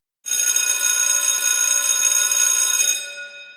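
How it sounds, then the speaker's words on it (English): Old fire alarm bell of the kind once used in buildings, ringing loudly and continuously for about three seconds with a harsh metallic clang, then fading out alone. "you're looking at Pope's alarm bell"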